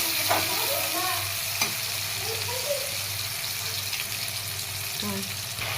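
Ginger garlic paste with green chilies frying in oil while being stirred, making a continuous close sizzle with occasional scraping stirs. Faint voices murmur in the background.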